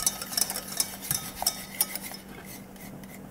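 A utensil stirs thickening custard pastry cream in a pot, with quick scraping and clinking strokes against the metal, close and fairly quiet, no talking.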